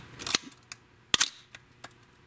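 A Pentax K1000 camera's focal plane shutter fires at 1/500 second indoors, giving sharp mechanical clicks and clacks in a few quick pairs, close and otherwise quiet.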